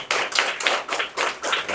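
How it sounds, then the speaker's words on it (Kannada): Loud applause from a class of government school children in a Kannada-medium school, dense hand clapping arriving in several swelling bursts close by, with no talking. "ಒಂದು ಜೋರಾದ ಚಪ್ಪಾಳೆ ಸರ್ಕಾರಿ ಶಾಲೆ ಮಕ್ಕಳಿಗೆ."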